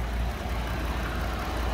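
A 2019 Jeep Wrangler Unlimited Sahara's 3.6 liter V6 idles with a steady, smooth low hum, heard close from the open engine bay and without speech.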